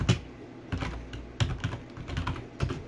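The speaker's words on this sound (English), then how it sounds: "type in Rochester" Someone types on a computer keyboard nearby: scattered key clicks come in small irregular bursts, soft and close, with no talking.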